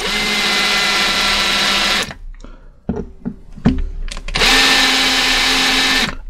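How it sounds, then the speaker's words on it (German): A high-pitched electric drill whirs steadily into a lithium battery pack, stops for a few seconds of clicks and handling noises, then starts whirring again. "Hier auch lieber zu wenig als zu viel bohren."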